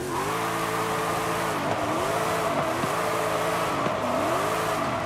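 Modified car engine in Forza Horizon 5 revving loudly and steadily, its pitch rising and falling through repeated gear changes with a constant close roar throughout.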